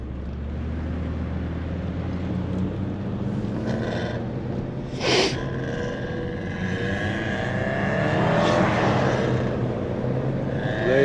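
A rare Mercedes driven in sport mode gives a steady low engine drone from inside the cabin, rising slightly toward the end, with brief swells of road and wind noise.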